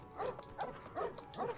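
Cartoonish dog barks from a character in the LEGO Harry Potter video game, four evenly spaced yips in a quick steady rhythm, moderately loud over faint game background.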